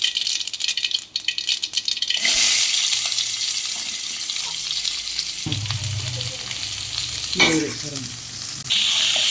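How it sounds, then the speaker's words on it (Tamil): Mustard seeds spluttering in hot oil for a tomato kurma, a loud, dense crackling hiss that swells and drops in bursts, with a few sharper pops, close and filling the clip. "எண்ணெய், எண்ணெய் காஞ்சிருச்சு, கடுகு போட்டுக்கலாம்."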